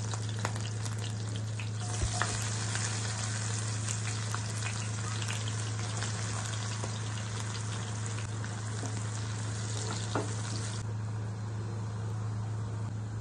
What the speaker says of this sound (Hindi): तापर हमें एथरे काटी रखिथिबा प्याज को पकेवा।